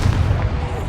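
A Confringo spell in Hogwarts Legacy detonates with a heavy, booming low-end blast that fills the short moment, loud and close, amid ongoing spell combat.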